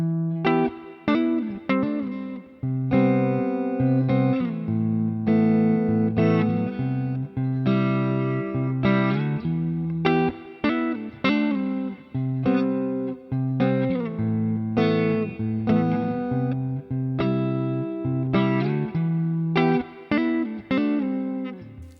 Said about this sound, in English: I'm just going to try it on a single coil guitar.